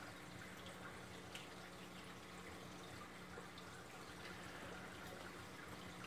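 Water pumped through a 1.25-inch Durso overflow into an aquarium sump filled with a thick bed of filter floss, making a steady, continuous trickling and splashing rush with a low hum underneath, alone and unchanging throughout.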